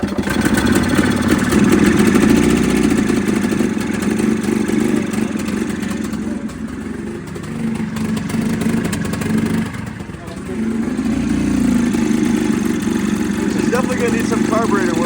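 The gas engine of a 1987 EZGO three-wheeler, in need of carburetor work, runs rough and smoky up close, its uneven rumble dipping and surging under a voice.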